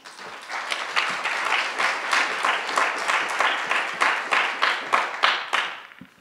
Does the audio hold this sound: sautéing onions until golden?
no